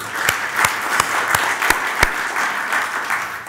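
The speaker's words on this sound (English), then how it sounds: "Can we have a round of applause for her?" Audience applause for Judge Khatun Sabnara at a formal ceremony, an even patter of many hands with a few louder claps nearby, steady and sustained.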